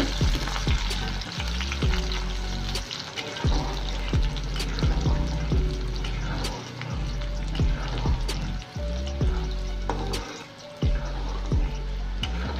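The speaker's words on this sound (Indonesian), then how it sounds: "bawang putih dan bawang merah yang kita iris tadi ya bun kita goreng kita masukkan bawang merahnya dulu" Sliced shallots and garlic frying in hot oil, with a steady, dense sizzle throughout and occasional sharp clinks and scrapes of a utensil stirring the pan, heard close and alone.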